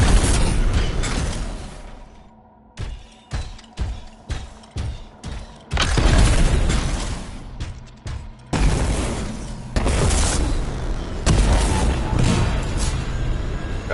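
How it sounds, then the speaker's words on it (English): Canisters explode in the sci-fi shooter Anthem: loud booming blasts and a rapid string of sharp bangs and mechanical clatter, followed by sustained roaring rumble, with no speech. "It'll be a contained explosion."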